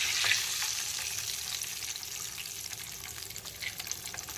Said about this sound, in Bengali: এখন বাকি চিকেন ড্রামস্টিক্সগুলোকেও একইভাবে ভেজে নেব।